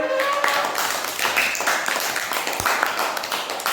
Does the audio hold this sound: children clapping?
yes